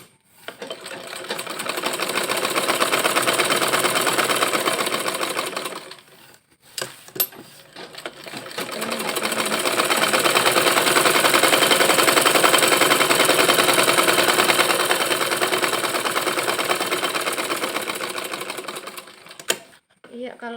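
A sewing machine stitches around a skirt in two long, steady runs of rapid whirring, with a short pause and a few clicks between them.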